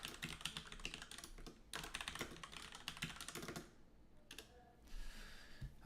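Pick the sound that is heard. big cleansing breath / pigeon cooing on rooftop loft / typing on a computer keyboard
typing on a computer keyboard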